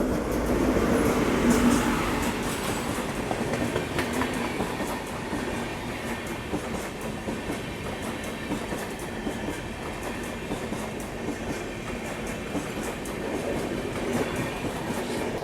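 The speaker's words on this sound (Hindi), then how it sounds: "ये तो सामने से तमिलनाडु एक्सप्रेस जो है वो आ रही है" Tamil Nadu Express passing on the opposite track while the listener's train waits at a halt: a steady, loud rumble of rolling wagons with faint clickety-clack and rail noise throughout, slightly heavier at the start.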